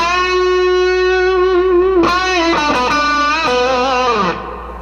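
Single notes on an electric guitar played through an amp with its reverb set halfway, a sustained held note then a quick run of picked notes, each leaving a clear ringing tail, loud and alone.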